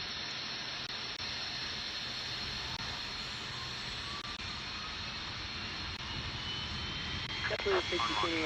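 An MD-83 jet engine starting up in Microsoft Flight Simulator 2024 gives a steady, broad cockpit roar and hiss, with a rising whine building toward the end as the engine spools.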